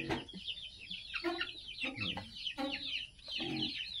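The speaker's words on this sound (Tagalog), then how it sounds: "ipapakita ko lang sa inyo yung mga bantam chickens" Bantam chickens on a farm cluck in short, busy bursts close by, a rooster and hen among them, with someone talking quietly in the background.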